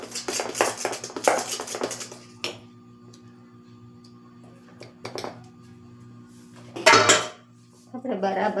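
A spoon clinks and scrapes against a bowl while ice cream premix is stirred, quick rapid bursts of metallic taps and clatter, then a pause with faint background hum and a few single knocks before more clinking resumes.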